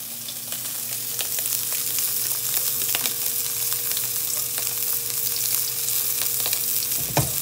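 Scallops sear in a hot pan with a steady, even sizzle that runs throughout, and a brief clink of a utensil comes near the end.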